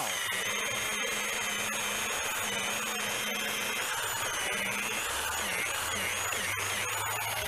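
A power polisher with a buffing pad whines steadily on a filthy barn-find car, a loud continuous high-pitched motor drone with a lower rumble shifting as the pad presses on the paint.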